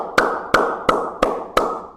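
Five single hand claps fall at an even, slow pace, each one a crisp, close slap with a short ring after it. No other sound is heard between them.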